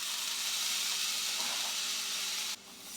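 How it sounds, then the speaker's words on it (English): Garlic cooking down in a pan, a steady soft sizzle and hiss that runs without a break and dips slightly near the end. "I'm going to cook down some garlic"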